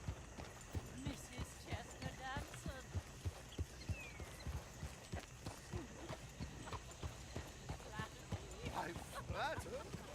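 Horse hooves clip-clop steadily as a horse-drawn coach rolls along in Red Dead Redemption 2, a regular trotting rhythm close by, with voices talking over it.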